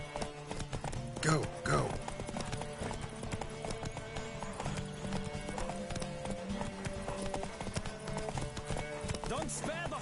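A horse gallops in The Witcher 3: Wild Hunt, with steady clip-clop hoofbeats running throughout alongside game music, and a brief whinny near the start. A voice speaks over the hooves.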